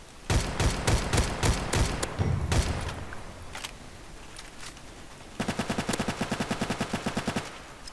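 Rapid pistol gunfire in a video game, a volley of sharp shots in the first few seconds, a few scattered pops, then a fast, evenly spaced burst near the end, loud and close with no talking.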